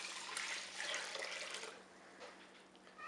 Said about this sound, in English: So I'll add 6 cups of water.